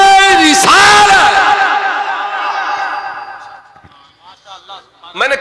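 At a naat gathering, a crowd answers a religious chant with a loud, strong, sustained shout that fades over about three seconds, followed by quieter scattered voices.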